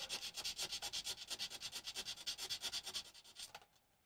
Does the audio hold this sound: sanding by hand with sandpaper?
yes